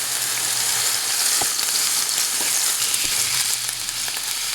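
Fish fries in a pan for quick browning for a Bengali fish curry, a steady close sizzle with faint occasional clicks throughout.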